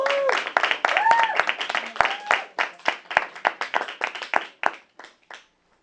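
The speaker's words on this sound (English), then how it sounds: "Give her a big round of applause" An audience applauds at the start of a Danny Thomas show presentation. Scattered, distinct handclaps thin out and fade to silence, and a voice briefly carries over the opening claps.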